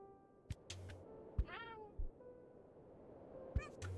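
Cartoon cats in a pinball video game meow several times, faint and spaced apart, mixed with soft thumps and clicks of game effects over a quiet background hum.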